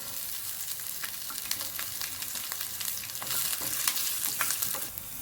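Whole spices, ginger and garlic sizzling in a little oil for masala puri, a dense close crackle with sharp spatters and stirring scrapes that swell toward the end, no talking.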